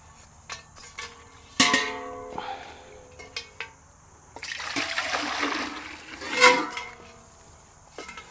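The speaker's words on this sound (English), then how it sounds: "just with some clean water, plain water, nothing in it, I rinse off the basket." Plain water splashes and trickles over a vintage basket during a rinse, in a few uneven bursts with a longer pour in the middle, fairly close and moderately quiet.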